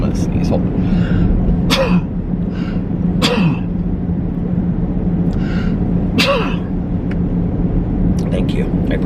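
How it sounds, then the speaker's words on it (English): Several short, sharp bursts, sneeze-like, rise out of a steady background hum and murmur, spaced a few seconds apart. "And let's sneeze."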